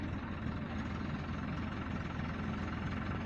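Tractor engine running steadily through paddy threshing, a continuous low rumbling drone with dense broadband noise and no pauses.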